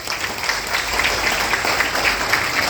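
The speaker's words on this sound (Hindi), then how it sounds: "जोरदार तालियां बनती है इनके लिए।" An audience at a health seminar claps enthusiastically, a dense, steady wash of many hands that stays fairly loud and even throughout, with no talking over it.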